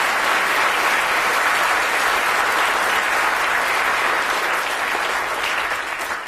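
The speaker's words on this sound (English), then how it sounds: "Give Laura a round of applause for wearing this apparatus there." Audience at a science talk applauds loudly and steadily, a dense continuous wash of clapping that holds for several seconds without a break.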